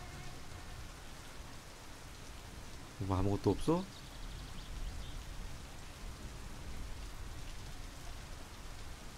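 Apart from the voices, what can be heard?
rain falling in My Summer Car video game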